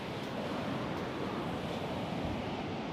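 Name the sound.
ocean waves breaking at a surf beach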